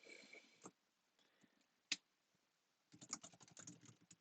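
Faint computer keyboard typing of code, a short burst of key clicks, a sharp isolated tap, then a denser run of quick keystrokes toward the end, close and quiet.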